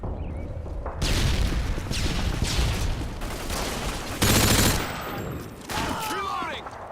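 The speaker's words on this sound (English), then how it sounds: "UAV spotted. Throwing a stun grenade." Video game firefight with a stun grenade and gunfire, loud sustained automatic bursts and a sharp blast, dense continuous shooting with brief pauses between volleys.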